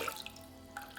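Water runs into a saucepan over medium heat for a brief moment, a soft, steady trickle with light splashing, heard alone and up close.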